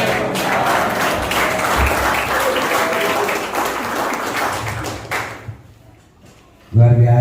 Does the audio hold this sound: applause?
yes